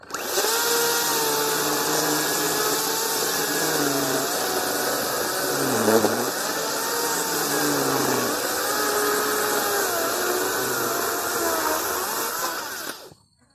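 Makita electric chainsaw cutting through a large, dense piece of solid hardwood, a steady loud whine that strains and bogs slightly mid-cut, running continuously close up before stopping at the end.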